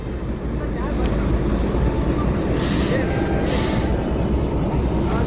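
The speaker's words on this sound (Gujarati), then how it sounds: "ફાઇનલી ટ્રેન આવી ગઈ છે મતલબ એન્જિન આવી ગયું છે ટ્રેનનું" A train locomotive engine at a station being coupled to passenger coaches, a steady loud rumble with a couple of hissing bursts of air, under a background of people talking.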